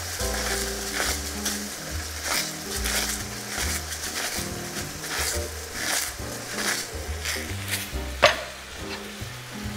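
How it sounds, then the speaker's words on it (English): Canned tomato sauce and chopped tomatoes sizzle in a pan for penne alla vodka while being stirred, with scraping and soft clinks of the utensil against the pan and one sharper knock near the end. "I'm gonna add a can of tomato sauce and a can of chopped tomatoes"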